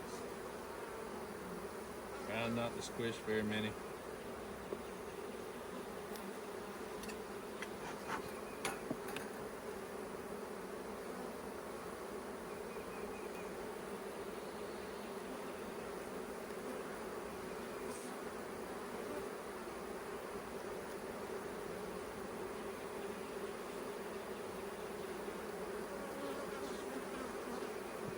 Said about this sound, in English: There are a lot of bees in this box.